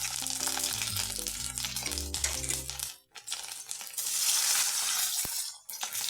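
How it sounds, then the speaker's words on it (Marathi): Masala-stuffed green chillies shallow-fry in hot oil with a continuous, close crackling sizzle. A steady tonal hum sits under the first half before the frying carries on alone. "अशी मिरची भाजी सगळी भरून झाली फ्राय करून घ्या"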